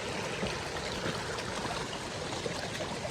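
River water streams and gurgles steadily across the rocks at a crossing, a continuous close rush of flow with no voices.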